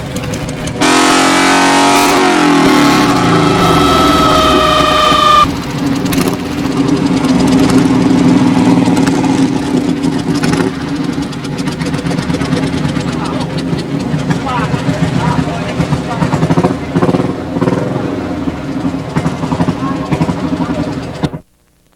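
Motorcycles idle and rev at the flat track races in Rochester during Laconia Motorcycle Week, with a loud rising whine early on, then steady rumbling engines and crowd noise filling the scene to the end.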